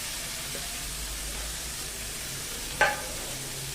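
Aubergine and mixed vegetables stirred in a pan for a traditional Bhogi curry give a soft, steady sizzling hiss, with one sharp clink of a utensil near the end and no talking.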